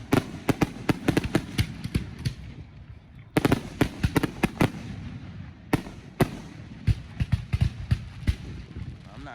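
4th of July fireworks in Madison, Wisconsin: rapid volleys of sharp, loud bangs and crackles in irregular bursts, with short pauses between clusters and voices faintly underneath.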